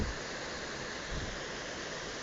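Steady broadband rushing of falling water, a constant even roar with no pauses, moderately quiet and heard from some distance.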